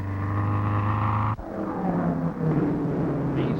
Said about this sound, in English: their engines have 400 to 500 horsepower with sound effects in proportion